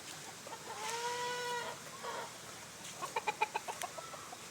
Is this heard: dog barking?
no